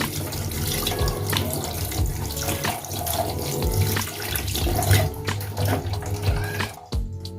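Vegetables, chillies and kitchen spices are washed under a running kitchen tap, with a steady stream of water splashing into a sink and intermittent clatter of produce and handling close by.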